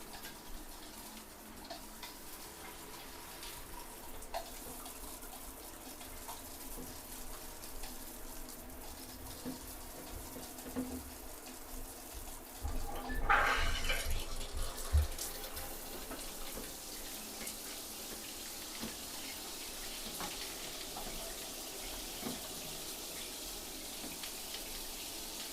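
Water spraying from a rain shower head, a steady hiss of falling water that grows fuller and louder after a brief surge partway through, then continues evenly.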